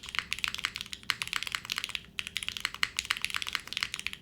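Rapid, steady typing on a TKD Cycle8 mechanical keyboard fitted with bean gasket mounts, crisp clacky keystrokes in dense bursts with a brief pause midway, close and fairly quiet, no voices.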